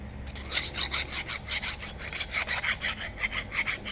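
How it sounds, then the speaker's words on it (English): A small rat tail file rasps against metal, cleaning a burr from the inside of a tractor part on an IH 1066 tractor, in a steady run of quick, close back-and-forth strokes with no talk. "What I've got is a small rat tail file, and what I did is just cleaned out that burr on the inside."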